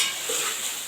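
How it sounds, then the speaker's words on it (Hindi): Tomatoes, green chilies and spices fry for chicken qorma, a steady close hiss and sizzle with a light stir partway through, no voices. "इसे हम अच्छी तरह भूनेंगे।"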